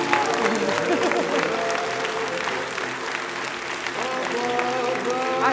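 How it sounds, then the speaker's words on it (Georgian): Studio audience applauding a television talk show host's arrival, steady sustained clapping from a large crowd with a faint musical tone running underneath throughout. "ასეთ აპლოდისმენტებს მეც კი არ ვალოდებოდი"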